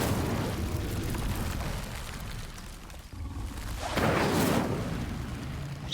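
Incendio fire spell cast in Hogwarts Legacy, a loud whooshing fiery burst that flares up near the end after a rumbling roar of combat noise.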